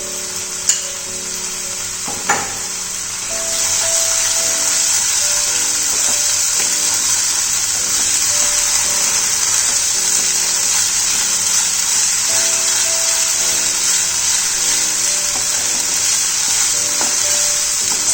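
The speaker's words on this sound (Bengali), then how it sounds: "ততক্ষণ ভালো করে মশলাটাকে কষিয়ে নেব" Green chilli and ginger paste fries in hot oil in a pan for a bhetki fish korma, a steady loud sizzle running throughout after a couple of brief clinks of stirring at the start.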